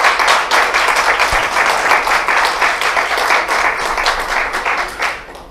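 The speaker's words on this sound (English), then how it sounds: "So a big round of applause for them," Loud, dense round of applause from a conference audience at a spine meeting in New Delhi, steady and sustained for several seconds before tapering off at the end.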